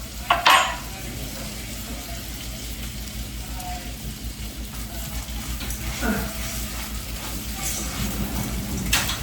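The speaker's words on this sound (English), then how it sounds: "put the flame a little bit higher because my rice should be browning faster" Rice A Roni browning in melted butter in a pan on a home stove: a steady close sizzle and frying hiss throughout, with occasional stirring scrapes and clinks.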